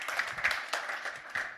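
Brief, fairly faint audience applause for a festival panel on creative freedom, a scattered patter of clapping hands from a modest crowd.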